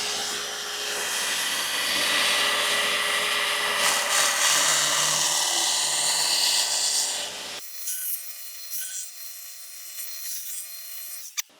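A belt grinder grinds a knife edge with a loud, steady abrasive whir and rasp for several seconds before the contact stops abruptly, leaving the motor's hum running on with a faint click, close up and without talk.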